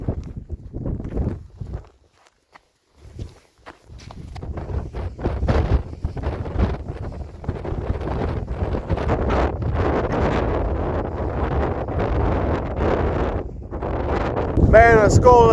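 Gusty wind on a cold mountain at night rumbles and buffets the microphone, growing stronger and nearly constant after a brief lull, with a shrill whistle near the end.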